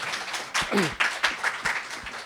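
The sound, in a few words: audience applause for an author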